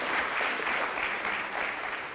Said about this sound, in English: So please continue to give Jason a round of applause.